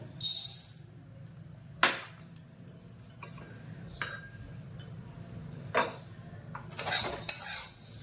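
Coriander seeds dry-roasting in a pan for Maharashtrian kala masala, with scraping and clinking of a spoon against the metal pan in several distinct strokes over a soft background hiss; no talking.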